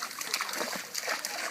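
A dog splashes and sloshes through water at a park, with broadband splashing and dripping sounds filling the clip up close while a person speaks briefly in the background.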